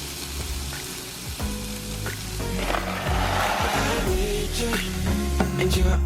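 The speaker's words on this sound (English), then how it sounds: "I'm just sauteing in some oil, a little bit of garlic, yellow pepper, jalapeno, and some onion." Garlic, yellow pepper, jalapeno and onion sauteing in oil sizzle steadily in a pan, with occasional stirring clatter and soft background music throughout.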